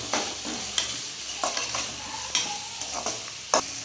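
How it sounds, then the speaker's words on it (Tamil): A spatula scrapes and knocks repeatedly through tomatoes and turmeric powder in a hot pan for kurma, sharp irregular stirring strokes over a soft, close sizzle. "மஞ்சள் தூள் போட்டு நல்லா கிண்டிக்கோங்க"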